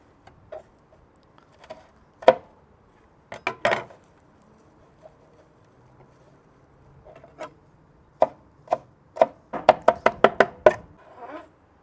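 A knife chops mint and basil on a board in short sharp taps: a few scattered strokes, a pause, then a quick rhythmic burst of close, crisp cuts.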